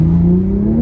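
Toyota Supra engine revving up close, a loud sustained drone rising steadily in pitch over under a second, no voices.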